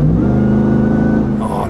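A stock Dodge Ram TRX Mammoth 900 truck engine revs loud and close, a steady deep growl holding high for over a second before easing off.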